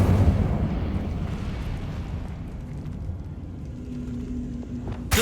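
Incendio fire spell cast in Hogwarts Legacy: a loud, rumbling fiery burst opens, then fades into a long roaring wash with a faint tone near the end and a sudden sharp crack at the close.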